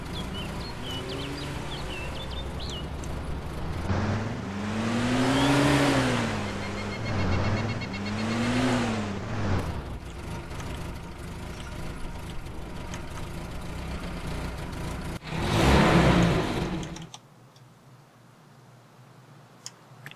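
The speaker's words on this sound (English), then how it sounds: "If you don't cut the engine off, it makes a big loud roar" A vehicle engine in the DayZ video game idles and then revs in two rising and falling swells, followed by a louder burst near the end before it cuts out abruptly.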